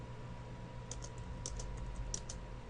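Fingers type on a computer keyboard while writing Visual Basic code, soft irregular key clicks in small clusters over a steady low electrical hum.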